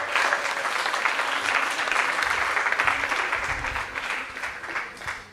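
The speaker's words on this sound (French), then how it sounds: "Applaudissez-le." An audience at an innovation awards day applauds as the president, Laurent Sacomano, is welcomed to the stage, with dense, continuous clapping of even loudness throughout.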